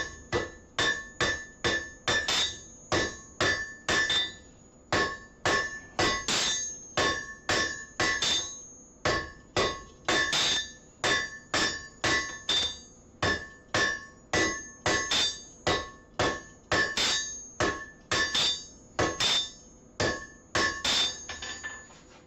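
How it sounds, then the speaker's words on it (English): A hand hammer forges hot metal on an anvil, bringing the stock down: about thirty ringing strikes fall in a steady, even rhythm, each one sharp and bright with a short metallic ring, close and clear with no talking. "Bringing it right down with just the hammer."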